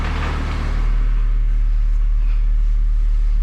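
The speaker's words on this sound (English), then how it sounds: "That's the noise of the tire on the concrete." Tire of a Honda Civic rolling slowly over concrete, a steady low rumble with faint road texture that holds evenly throughout, fairly close and continuous with no talk.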